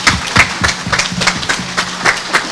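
An audience applauds after a politician's speech at a public event in Reshetylivka, Ukraine, giving a loud, dense patter of many hands clapping with a few stronger claps standing out.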